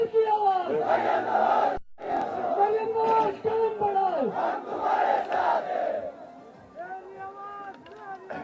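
A large crowd at a Pakistani political rally chants slogans in unison, loud and close, in repeated rhythmic bursts with a brief break before quieter chanting near the end.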